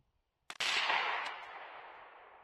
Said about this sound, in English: This is my first shot with the new Trail 3 XR50.